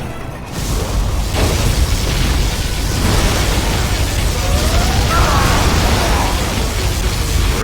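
A particle cannon strike in C&C Generals Zero Hour sets off a long, loud rumbling blast, a dense roar of explosions and bursts sustained throughout after a brief quiet start.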